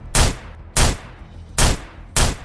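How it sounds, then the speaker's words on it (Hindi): Four evenly spaced gunshots from a handgun emptied into the sky, each a loud sharp crack with a brief decaying tail, set in a dramatic mafia story scene with no talking. "अपनी गन की सारी गोलियां आसमान में फायर कर दी।"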